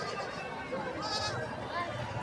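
Goats bleat at a busy livestock market in Lonand, several wavering calls rising over crowd murmur and nearby talk, moderately close.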